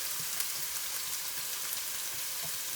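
Ginger and garlic fry in hot oil in a stir-fry pan, a dense, even crackling sizzle that holds steady and close for a few seconds.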